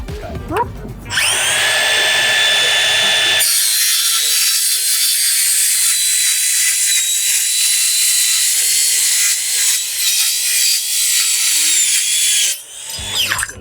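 A circular saw bites into steel studs, starting with a brief spin-up and then a loud, sustained high-pitched metallic whine with a ringing tone for about nine seconds before winding down, up close, with voices briefly at the start.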